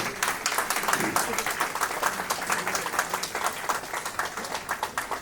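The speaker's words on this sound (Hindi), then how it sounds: "तालियां बजती रहे भाई।" Audience applause at a welcome ceremony during a state shooting championship in Jaipur, lively rhythmic clapping from many people with a pulsing beat, voices mixed in underneath.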